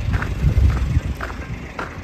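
Horse hooves clip-clop in a steady, moderately loud rhythm during a horse ride in Attock, with low rumbling movement beneath the footfalls.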